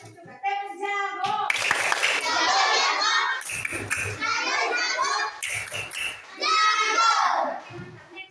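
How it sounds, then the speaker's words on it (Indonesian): A classroom of children performs the rhythmic 'tepuk jago' clapping game, with bursts of clapping alternating with loud chanted voices in a patterned call-and-clap sequence close by. "Oke, kita kasih tepuk jago dulu."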